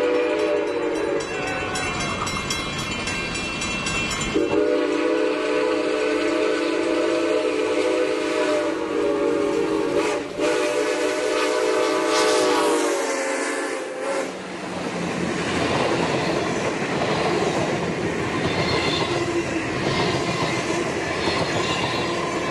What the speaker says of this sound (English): The train rounds the curve at the Pomona Metrolink station and passes by the old Santa Fe Pomona depot.